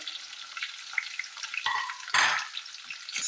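Onions frying in a pan for irumbanpuli pickle, giving a continuous close sizzle and crackle with stirring scrapes and a brief louder burst of hissing near the end.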